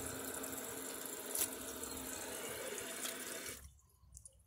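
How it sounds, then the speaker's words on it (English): Water running into the bowl of a 2009 Kohler Wellworth Class 5 toilet, a steady close rush of flow that cuts off abruptly near the end, followed by faint drips, with no voices. "Gotta get some water in the bowl"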